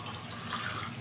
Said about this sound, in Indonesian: jadi airnya langsung netes ke bawah, jadi enggak berserak airnya, langsung kering